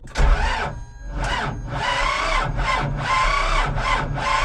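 A T-25 tractor's diesel engine turns over sluggishly on a weak battery in -11 degree cold, a loud rhythmic cranking in repeated labored strokes of uneven length that never catches.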